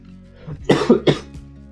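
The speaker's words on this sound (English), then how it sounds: "need to cough a bit" A person coughs three times in quick succession, close and fairly loud, preceded by a soft throat sound, with quiet room tone around it.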